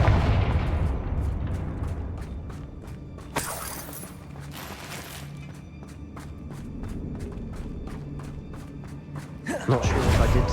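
A Confringo fire spell in Hogwarts Legacy bursts into a loud, noisy blast, followed by a later second burst, over steady rhythmic ticking and low game-score rumble.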